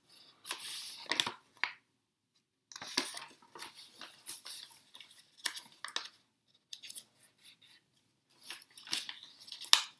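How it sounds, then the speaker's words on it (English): Paper being folded corner by corner into a small box, with crisp crinkling, creasing and rustling in short irregular bursts separated by brief pauses, close and fairly quiet. "taking each corner and folding it up to this line right here, that first line"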